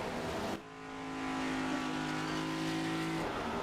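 Stock-style race car from a next-gen sim racing series rolling down pit road, a steady engine drone with a sustained tonal whine that drops briefly, then holds loud and close for several seconds.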